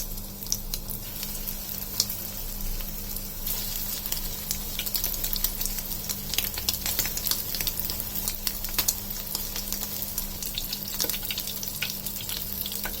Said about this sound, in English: Fry it until it turns golden brown color. Fry it in a very medium flame.